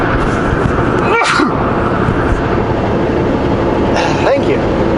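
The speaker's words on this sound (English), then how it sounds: "I'm gonna sneeze." A single loud, close sneeze bursts out over a constant rumbling truck-cab background, followed later by a softer sharp exhale.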